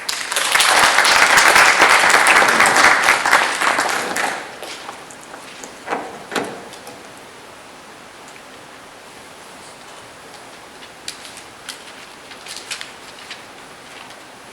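Audience at a university graduate engineering conference gives a short, loud round of applause that dies away after about four seconds, leaving scattered faint claps and room noise.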